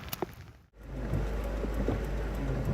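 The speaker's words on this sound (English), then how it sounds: "The rain's getting heavy." Heavy rain pours down outdoors near a car park, a dense, steady roar close to the microphone with low rumbling buffets after a brief dip in the first second.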